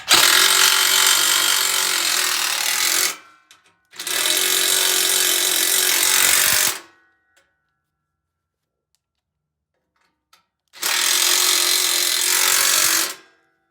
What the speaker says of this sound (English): Now again, using your 13 millimeter, we're going to tighten up the side bolts.